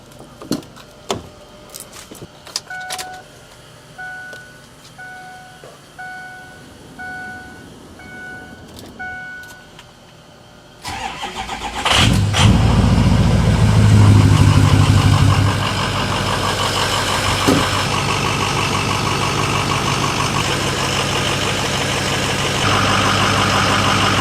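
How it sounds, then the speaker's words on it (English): A 6-liter truck engine cold-starts after some quiet clicks and chimes from the cab, cranking to life with a loud rush, revving high briefly, then settling into a steady, rumbling idle close by. "let's get a cold start for the boys"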